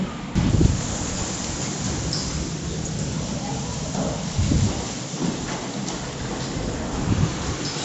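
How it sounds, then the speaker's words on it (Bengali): Strong nor'wester storm wind carrying heavy dust roars steadily with gusting rumbles that swell and fade, a constant rushing noise close to the microphone, with no rain. "বাতাস এবং ধুলা"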